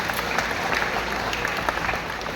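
A church congregation at an anniversary service claps together, a close, even burst of applause filling the short stretch without speech.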